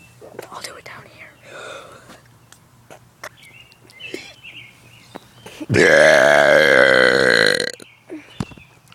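A long, loud, rumbling burp bursts out for nearly two seconds, preceded by soft whispering and small mouth noises in a quiet room.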